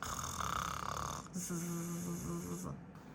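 A narrator's voice imitates loud snoring for a sleeping wizard in a read-aloud children's fantasy story, drawing out a few deep, rasping snore sounds close and alone.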